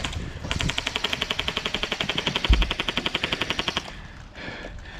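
Rapid automatic gunfire in a video game rattles out in a fast, even burst of close, loud shots lasting several seconds before cutting off.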